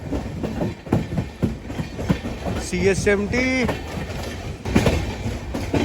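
An Indian Railways train rumbles past at close range with rhythmic clickety-clack of wheels over rail joints, metallic squeals and a brief horn-like tone midway, while someone talks over the noise.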